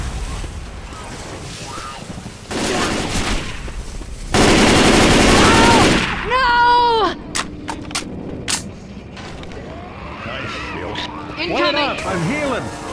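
Loud bursts of rapid gunfire erupt in Left 4 Dead 2 at a port, alternating with gusts of noise, while voices shout and talk over the fighting.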